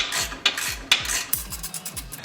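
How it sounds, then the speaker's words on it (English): A 3/8 ratchet clicks in short, rhythmic strokes while turning a brake caliper bolt in a tight space, each pull a close, bright metallic rasp followed by a quieter return. "So we'll just use a 3/8 ratchet"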